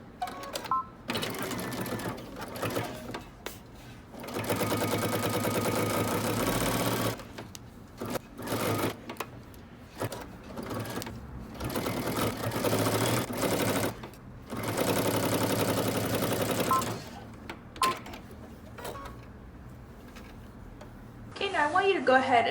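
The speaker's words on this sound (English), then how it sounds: "we're going to stitch our neck binding onto our neckline" A sewing machine runs in several long stitching passes attaching neck binding to a dress neckline, a steady fast mechanical whir close by, with short pauses between runs and someone talking in the gaps.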